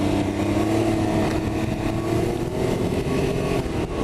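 A 2020 Can-Am Ryker 900 ACE three-wheeled motorcycle pulls away with a steady, close engine drone, wind and road noise rising around it.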